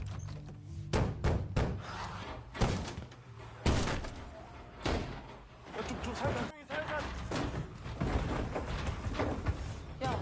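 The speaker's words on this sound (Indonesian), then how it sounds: "bunyi dobrakan pintu membuat zombie semakin memberontak" Heavy wooden thuds and crashing bangs repeat irregularly as a door is battered and broken down, loud and close, mixed with voices and commotion throughout.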